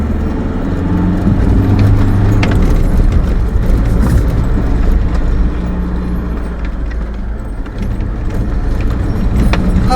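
Car engine droning steadily in second gear on a drive from Pembrokeshire toward Hafren Forest, a loud continuous low rumble filling the whole stretch with slight swells in pitch and no talk.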